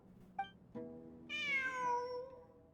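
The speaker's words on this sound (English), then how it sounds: "It really is a cat." A video game cat meows: two short chirps followed by a longer, drawn-out meow that falls in pitch, clear and close with no talk over it.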